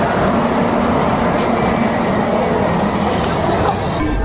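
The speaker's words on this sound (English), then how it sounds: "The train is back." A Disneyland train rumbles in as it arrives, a continuous loud, dense mechanical roar with faint brief hisses over it.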